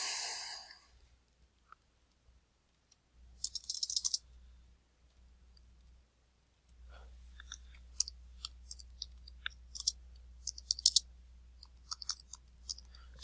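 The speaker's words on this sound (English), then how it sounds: "We could then type that in." Scattered light clicks of numbers being keyed on a computer keyboard, quiet and irregular, with a short burst early on and a steadier run of taps over a low hum in the second half; a breath or sigh near the start.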